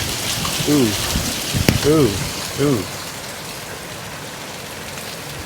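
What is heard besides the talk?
dime-sized hail falling on concrete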